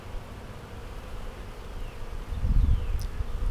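Honey bees buzzing around an open hive during a spring inspection: a soft, continuous hum from many bees close by that swells slightly toward the end, with no voices.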